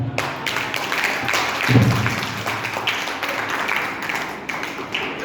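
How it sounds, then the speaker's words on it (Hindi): An audience applauds after a student's Hindi poem recitation at a school celebration, a dense sustained patter of clapping with a slight swell near the middle, no talk over it. "जोरदार तालियां आदित्य के लिए"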